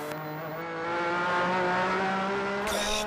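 A Ferrari endurance race car on slick tyres slithers across a wet track, its engine howling louder as it revs, ending with a sharp burst of noise.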